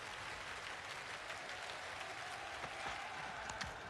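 A cricket crowd at a 1989-90 Australia vs Pakistan Test match applauds and cheers from a distance, a dense wash of clapping that stays steady throughout.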